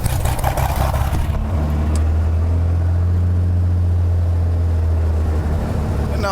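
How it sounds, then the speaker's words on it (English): A Cessna 206H aircraft engine cranks and catches, settling into a loud, steady low drone with a constant hum that runs alone to the end. "Now engine start."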